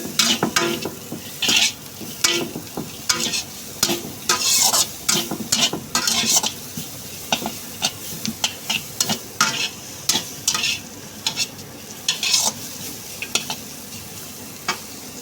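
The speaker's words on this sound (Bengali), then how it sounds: "এটাও হালকা নাড়িয়ে নেব, সতে করে নেব" Cut cabbage and carrot are sautéed on low flame in a pan, with a soft continuous sizzle broken by frequent, rhythmic spatula scrapes and clinks against the metal, close up.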